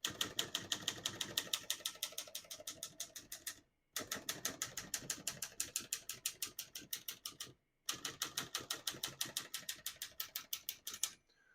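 A 1963 Olivetti Lettera 22 portable typewriter clacks in quick, evenly spaced keystrokes, close and crisp, in three long runs separated by short silent pauses.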